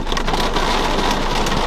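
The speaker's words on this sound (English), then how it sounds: "This rain getting out of fucking hand" Heavy rain pours down in a loud, dense, unbroken hiss of drops pattering on surfaces close by, with no voices.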